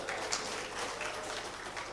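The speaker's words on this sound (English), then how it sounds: "Give applause for all of us." Applause at an international conference on Islam and education after the day's presentations: a steady wash of many hands clapping, fairly soft and distant, continuous for the brief span with no voices over it.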